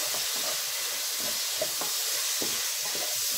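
Khichdi made with val beans sizzles softly in a pan as ground coriander, cumin and jaggery are stirred in, a steady hiss broken by regular spoon scrapes and clicks, close and unaccompanied by speech.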